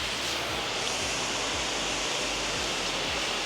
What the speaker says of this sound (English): we're just going to go ahead and give this a real light rinse